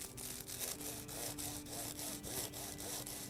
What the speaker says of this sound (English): And now I'm just gonna trim the ends of the bastilla.